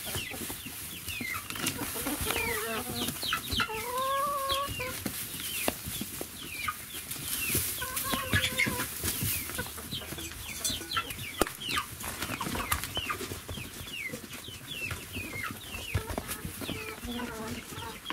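Chickens in a coop cluck and squabble over a treat, with busy overlapping clucks, squawks and a rooster's calls, wings flapping now and then, while a person speaks intermittently underneath.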